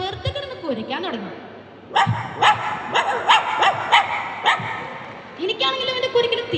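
A voice mimicking a house dog barking, a quick series of sharp, close barks with yips and a whimpering slide, loud and repeated in bursts.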